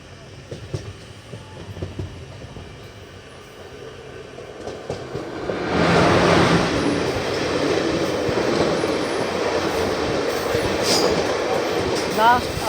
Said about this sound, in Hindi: LHB Maharashtra express crossing ICF Maharashtra express